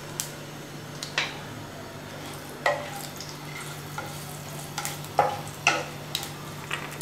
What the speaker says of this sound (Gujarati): સ્ટવની ફ્લેમ અત્યારે મીડિયમ રાખી છે. તેમાં તજ, તમાલપત્ર અને સૂકું લાલ મરચું નાખીએ.